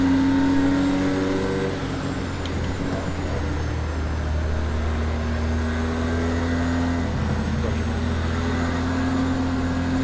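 Racing car engine in the game Project Cars 2, droning steadily at high revs with rising and falling tones as it accelerates and shifts, loud and continuous throughout.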